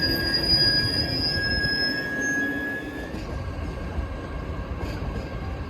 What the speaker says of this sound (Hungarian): Euronight train Kálmán Imre Wienerwalzen departs for Hegyeshalom at